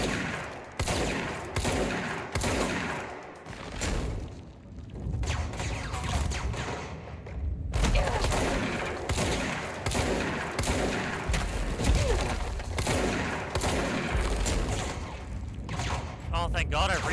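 Gunfire in the video game Control: dense, rapid bursts of weapon fire and heavy impacts, loud and nearly continuous with one brief lull, while a player talks over the shooting.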